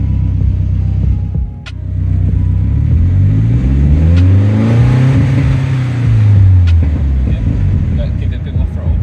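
A turbocharged BMW E30 with an M42 engine revs against a two-step limiter set at 2,000 RPM: loud, close engine note swelling and falling in pitch, with a rough rumbling drone and a voice speaking briefly over it.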